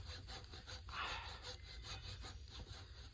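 A tiny handsaw cuts small slots into a log while a bushcraft log cabin is built, giving a quiet, rhythmic back-and-forth rasp of wood sawing with steady strokes and no voices.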